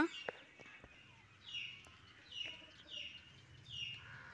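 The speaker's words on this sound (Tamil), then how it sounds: "இதுதான் ராஜா சேவலோ" Backyard country rooster giving soft, faint clucks in short bursts at a slow, irregular pace against a quiet background.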